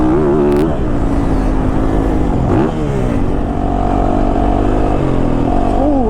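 A 2022 Yamaha YZ450FX four-stroke dirt bike ridden around a dusty track, its engine droning steadily and loud throughout with shifting pitch as the throttle rolls on and off, dipping briefly midway.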